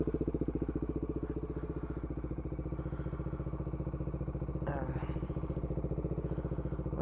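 Bajaj Dominar 400 motorcycle idling in place to warm a cold engine, a steady, close, low thumping pulse held throughout with a brief clatter partway through.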